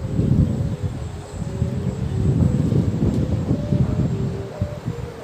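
A 170 cm Korat-style Chula kite fitted with a new bow hummer drones with a steady low hum high in a strong breeze, with wind rushing and buffeting the microphone throughout.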